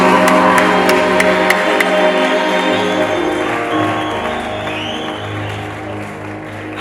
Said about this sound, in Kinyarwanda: waza mu gukomera amashyi menshi.